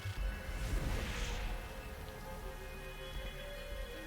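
Rain falling in the video game The Hundred Line: Last Defense Academy, a soft steady hiss of raindrops with a brief whooshing swell near the start, faint and continuous, no talk.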